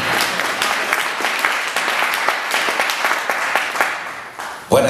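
Sustained applause from an audience at a large church meeting in Dodoma, dense steady clapping for about five seconds with a few voices mixed in, ending in a sharp loud burst.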